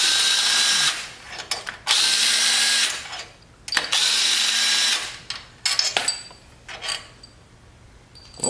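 A ratchet loosening an engine head bolt in a repair shop. Close, loud bursts of rapid mechanical clicking and whirring come in several runs of about a second each, separated by brief pauses and softer clanks.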